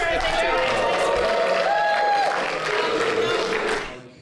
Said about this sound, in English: Let's cheer on Johnny and on Lisa.